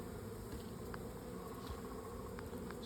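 Honey bees buzz around a free hive outdoors, a faint, steady swarm hum with a few individual bees passing close, low background noise underneath throughout.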